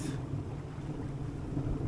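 A sailboat charging down the Solent at about 8 knots under sail with the engine off, giving a steady broadband rush of wind and water with low, continuous rumble and no voices.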